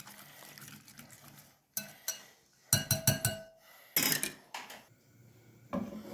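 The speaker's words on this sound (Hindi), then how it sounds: "अच्छी तरह इनको फेंट लेंगे, मिक्स करेंगे इस तरह" Eggs being beaten and mixed in a bowl, seasoned with salt and chillies, come through as bursts of clinking, tapping strokes in uneven clusters, fairly close, with quiet gaps between and no talk.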